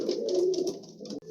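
Pigeons coo in soft, repeated throaty calls at close range, in a pigeon loft with many restless birds.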